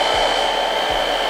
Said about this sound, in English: put it in a towel and then put the blow dryer in the towel.